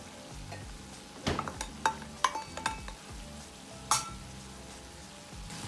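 Minced chicken with red curry paste and long beans sizzles steadily in a pan, with sharp clicks and scrapes of a utensil stirring through the food, close up and with no talking.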